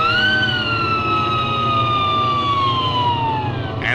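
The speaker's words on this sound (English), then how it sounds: "And the little fire engine blew its little moaning siren." A loud fire engine siren wails nearby in a single long, slowly falling moan, with no talking.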